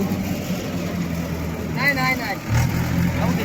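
A tractor engine rumbles steadily at a low, even idle, with a person speaking briefly over it.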